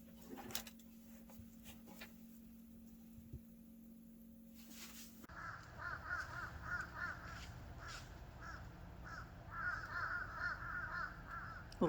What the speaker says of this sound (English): Little crow action this morning.